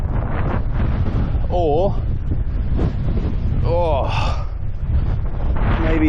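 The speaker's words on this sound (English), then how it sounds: "It's very windy." Strong wind blows across a muffed microphone on a cliff top at Beachy Head, giving a constant loud low rumble throughout, with brief voices and breaths showing faintly through it.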